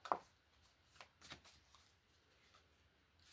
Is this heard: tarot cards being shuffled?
yes